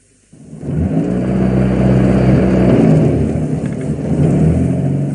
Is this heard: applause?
no